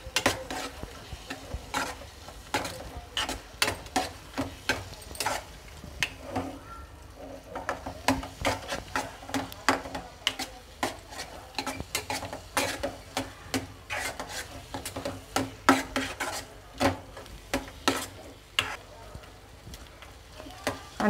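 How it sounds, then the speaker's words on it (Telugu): Carrot halwa being stirred in a pan, a steady run of close scraping and rubbing strokes against the metal over a faint sizzle, repeating through the whole stretch with no talking. "అన్నీ కలిసేలాగా కలుపుకోవాలి."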